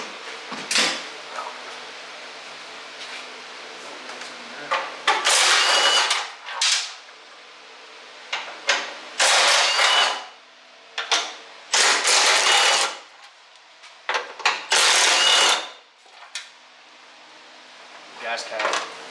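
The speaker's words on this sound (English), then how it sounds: "we're taking the seat off right now, and hopefully that'll help us" Work on a Wheel Horse 310-8 lawn tractor during seat removal produces intermittent bursts of metallic clanking, rattling and scraping, separated by short pauses, with people talking in between.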